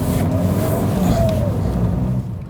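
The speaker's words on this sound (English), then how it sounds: "every time you let off the throttle, you're rewarded with this noise." A BMW E46 320d diesel engine drones steadily and loudly, with a rising whistle and burbling as the throttle eases off, then settles lower near the end.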